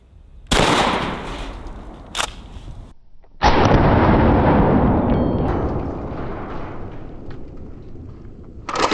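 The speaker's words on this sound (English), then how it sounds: "We'll go ahead and shoot that clay pot." A 12-gauge shotgun loaded with double-aught buckshot fires at a clay pot outdoors, giving two loud sharp blasts with a long rumbling decay after the second, then a third report at the end.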